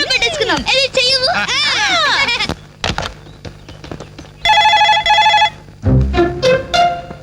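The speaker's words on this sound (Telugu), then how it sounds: "రింగ్ అవుతుందిరా." A telephone ringing indoors in a family home, a bright repeated electronic ring heard in a short burst between stretches of talk and music.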